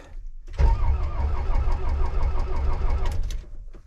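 A cold diesel tractor engine cranks steadily after its glow plugs are heated, a continuous churning drone that runs for a few seconds, close and fairly loud, with no one speaking.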